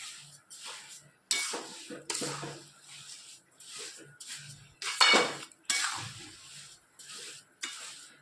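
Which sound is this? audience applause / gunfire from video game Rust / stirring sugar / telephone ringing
stirring sugar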